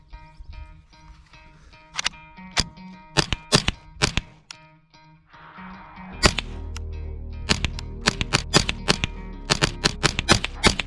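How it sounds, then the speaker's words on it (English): A Ruger 10/22 rifle fires at a target, with sharp cracking shots, a few spaced at first and then a quicker irregular string later, close and loud against a quiet background. "first shot's out of my new 1022"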